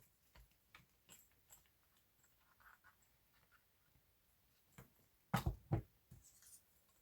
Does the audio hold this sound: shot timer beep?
no